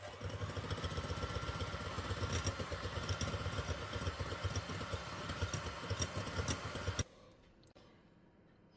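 An electric mixer whips egg whites as 200 grams of sugar is added gradually, with the speed slowly increased; a steady, buzzing motor whir with faint clatter runs for about seven seconds, then cuts off to near silence.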